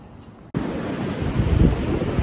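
Ocean surf breaking on the shore, a loud, steady broadband wash that rises suddenly after a quiet half-second and rolls on with a swelling surge, mixed with wind buffeting the microphone.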